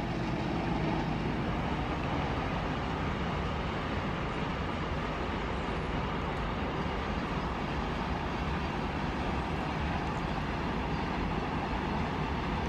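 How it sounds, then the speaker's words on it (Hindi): A WDG 4G diesel locomotive hauling a freight train past at speed, a dense steady roar of engine and rolling wheels that stays loud and close throughout. "डीजल में आज भी दमखम है, ये बताने के लिए WDG 4G कहीं ना कहीं से आ ही जाता है"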